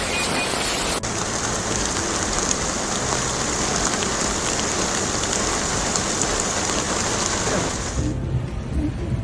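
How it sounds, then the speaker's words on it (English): Torrential rain in Mecca during a storm with strong winds pours down in a dense, steady roar that stays loud throughout and cuts off abruptly near the end. "The torrential rains were accompanied by strong winds"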